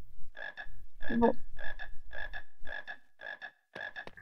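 Frogs croak in a regular, rhythmic pattern in a Harry Potter video game, with eight or so evenly spaced, fairly loud bursts against a low hum, and someone briefly speaks over one of them.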